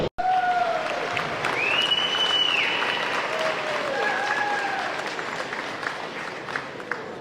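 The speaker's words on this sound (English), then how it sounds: "Everybody give them a big round of applause." Audience applause at an outdoor Mustang car show in Sevierville, Tennessee, a sustained wash of clapping that holds steady and slowly fades, with a high whistle-like tone briefly rising over it.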